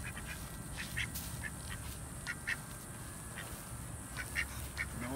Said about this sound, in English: Come on, Duck Duck